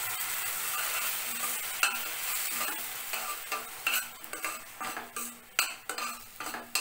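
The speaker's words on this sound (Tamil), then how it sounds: "இப்போது வெங்காயம் கொஞ்சம் வதங்கின உடனே இந்த புதினா பேஸ்ட்டை போட்டுடலாம்." Onions sautéing in a pan with mint paste stirred in for a kids' lunchbox rice, a steady close sizzle broken by repeated scraping and clinking of a spoon against the pan.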